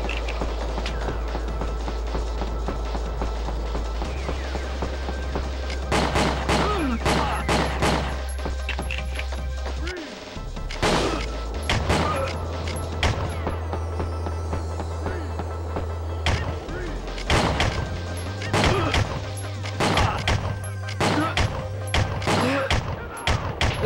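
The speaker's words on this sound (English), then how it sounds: "This area will ruin your day pretty quick. 3 to 4 shotguns all at once." Several shotguns firing at once in the video game WinBack, loud sharp blasts in rapid uneven bursts over a low electronic game hum.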